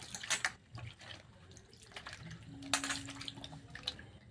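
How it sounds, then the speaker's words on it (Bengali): Dry coconut pieces washed in a plate of water, with light splashing, trickling and dripping close by in a quiet room, one brief louder slosh near the middle. "এর মধ্যে জল দিয়ে ভালো করে ধুয়ে নেব"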